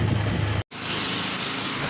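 Light drizzle falling outdoors, a soft steady hiss of rain with a brief dropout partway and a low vehicle hum beneath.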